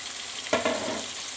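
Chicken karahi cooks in a pan over medium heat, giving a steady close sizzle and crackle, with one brief scrape or stir partway through and no talking.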